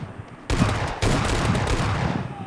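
Rapid gunfire during a two-team fight in PUBG Mobile Lite, a sharp onset followed by dense bursts of automatic shots, loud and continuous with no talk.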